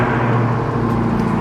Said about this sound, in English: So if I just do a double press right here at the key, the car will start.